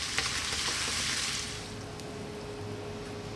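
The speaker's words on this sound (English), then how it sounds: "I'm going to get the heat on full blast now. And we're going to work this sauce into the pasta." Tomato sauce and spaghetti sizzle in a pan on full heat, a bright crackling fry that is loudest at first and then eases to a softer, steady hiss.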